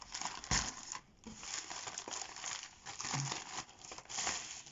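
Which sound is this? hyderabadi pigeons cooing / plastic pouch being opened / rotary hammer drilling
plastic pouch being opened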